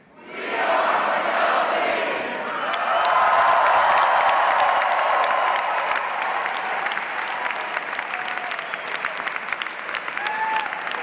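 Engineering bachelor's degree candidates at a WashU commencement ceremony raise a loud, sustained crowd roar of cheering and chanting that swells midway and holds steady for about ten seconds, with scattered clapping throughout.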